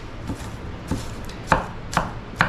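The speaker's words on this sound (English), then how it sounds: "we're just gonna chop these good" Green vegetables are chopped on a board for macaroni salad, with a knife striking about five times in an uneven rhythm, close and clear, and no one speaking.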